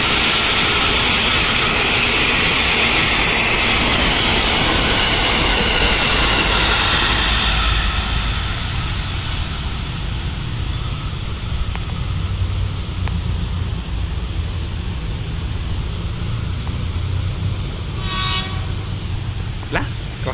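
A JR 205 series train passes close by with a loud, continuous roar of wheels and motors, followed later by a short horn blast.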